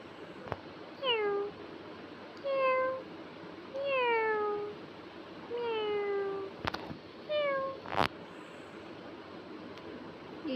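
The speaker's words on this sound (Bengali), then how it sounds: "এই যে মিয়াও মিয়াও এই জায়গায় খেলতেছে।" A cartoonish cat meows about six times in a farming video game, each a short falling cry repeated at a steady pace over a soft, constant background hum.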